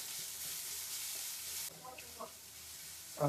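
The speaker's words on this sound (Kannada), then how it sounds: "ಈರುಳ್ಳಿ ಹಸಿ ವಾಸನೆ ಹೋಗೋವರೆಗೂ ಫ್ರೈ ಮಾಡ್ಕೊಳ್ಳಿ" Chopped onion frying in a pan for sambar, a steady broadband sizzle for the first half that drops away, followed by a few short stirring scrapes and clinks, close by with no talking.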